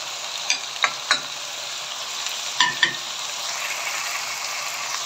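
Onion and dbsha herb stems frying in a pot, a soft continuous sizzle broken by a few sharp knocks and scrapes of a stirring utensil.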